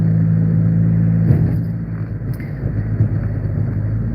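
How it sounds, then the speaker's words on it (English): Small race car moving fast, heard from inside as a steady loud low rumble that eases off and fluctuates, with no talking. "Sometimes I forget how fast I'm going in this car, my little race car"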